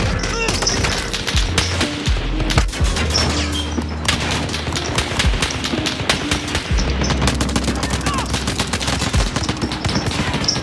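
Gunfire rattles through a video game match in rapid, dense bursts of automatic shots with occasional heavier booms, loud and nearly constant.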